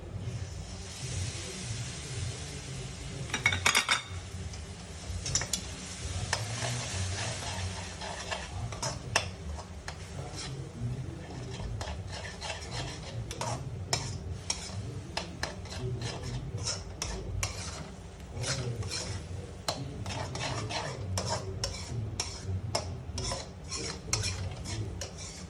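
Spices and cashew paste fry in a pan for shaahi paneer, with a steady sizzle beneath repeated scraping and stirring clicks of a spoon against the metal, continuing close and even throughout.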